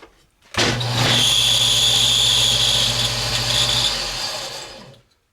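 A power sander grinds against a wooden pinewood derby car, starting abruptly after a brief quiet and holding a loud, steady whine with a high tonal edge for about four seconds before tapering off and cutting out.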